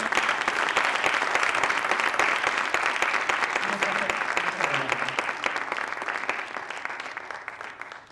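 An audience at a Santiago Ramón y Cajal tribute at the Museo Cajal bursts into sustained applause, dense rapid clapping that continues for several seconds and gradually thins and fades toward the end.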